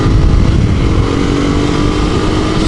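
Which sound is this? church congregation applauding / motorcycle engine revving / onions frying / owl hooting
motorcycle engine revving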